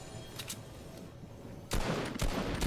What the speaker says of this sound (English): Why does my gun sound different?